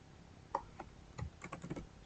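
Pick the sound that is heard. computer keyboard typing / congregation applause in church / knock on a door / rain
computer keyboard typing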